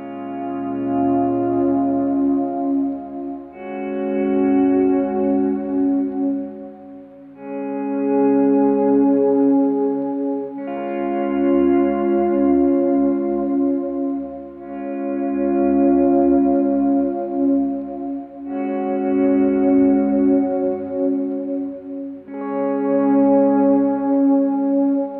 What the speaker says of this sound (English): we're just doing a very simple swell, sort of following the chord changes